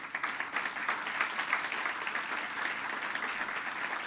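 Audience applause at a judicial book presentation in Durango, a continuous, fairly even patter of many hands clapping in a hall, moderately loud throughout with no talk over it.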